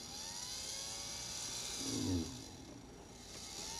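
A small radio-controlled car motor drives forward with a steady electric whir that swells briefly mid-way and then settles, close and continuous with no talk.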